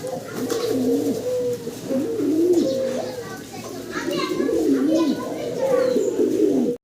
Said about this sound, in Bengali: দর্শক আমরা এখানে কিছু কবুতর দেখতে পারতাছি